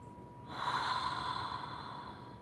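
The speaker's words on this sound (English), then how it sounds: "I'm going to take a deep breath here." A single deep breath drawn in and slowly released, a soft airy rush that swells and fades over a couple of seconds in a quiet room.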